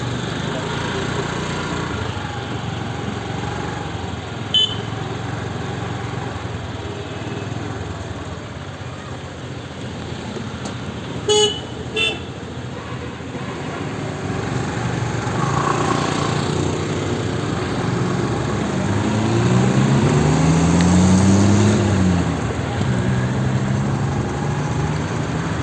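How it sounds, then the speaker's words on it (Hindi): A car driven along a road, with a steady engine and road drone throughout the clip, rising slightly near the end, plus a few brief clicks; no one speaks. "मैं अभी ड्राइव कर रही हूँ"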